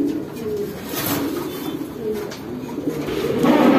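Pigeons at a wholesale pigeon market coo steadily over a busy, noisy background. The calls are moderately loud and continuous, with no clear talk.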